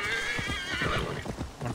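Horse neighing and whinnying in a video game set during a Viking-era ride, a steady harmonic whinny over light hoof clops that runs across the whole short stretch at even loudness.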